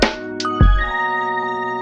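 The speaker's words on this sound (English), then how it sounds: "What other kind of plugin is going to give me sounds like this crystallizer plugin?" Shimmering, glassy pitched texture from a crystallizer plugin effect in Ableton Live 12, with a low thump and sustained harmonic tones ringing out over about two seconds, no talking.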